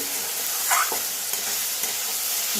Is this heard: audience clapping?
no